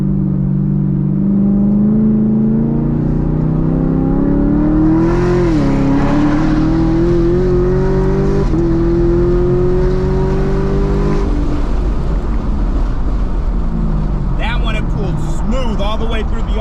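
A ProCharger-supercharged car pulls hard at wide open throttle on a freeway, its engine note climbing steadily through the rev range for several seconds, loud and continuous, with someone talking over it.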